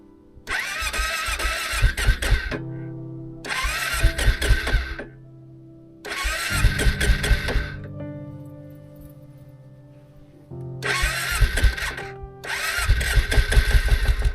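An old quad ATV, nearly 18 years old with about 2,500 km, cranked and started in a cold winter boreal forest: several loud bursts of starter churning and engine catching, separated by pauses, close by.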